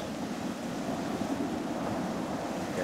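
Ocean waves crash onto a reef off Guam, a steady, loud roar of surf mixed with wind buffeting the microphone, and no voices.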